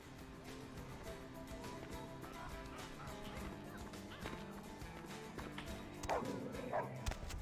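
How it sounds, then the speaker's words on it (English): Dog barking and biting in Vampire: the Masquerade - Bloodlines, yips and barks set against a busy game soundscape of music and ambience, with a sharper burst of activity near the end. "I just got bit by the dog. Dog doesn't like me."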